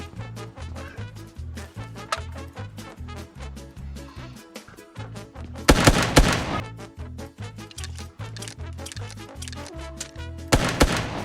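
Rapid bursts of gunfire in PUBG Mobile repeat steadily over a pulsing electronic soundtrack, with louder, denser volleys near the middle and again at the end.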